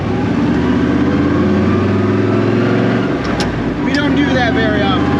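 An early Ford Mustang engine revs loudly and steadily with a deep, continuous roar that dips briefly before surging again, close and dominating throughout.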